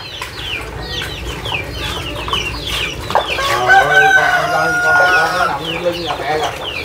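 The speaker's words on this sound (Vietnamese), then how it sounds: "Còn gà ở trong nhà nè." Chickens inside a flooded house in Long An during a tidal surge, clucking and crowing repeatedly at close range while people talk over them in Vietnamese.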